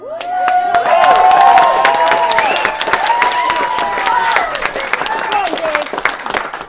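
Wedding guests applaud Karen's brother Dave, a loud burst of clapping with cheers and whoops rising over it, sustained for several seconds before thinning out.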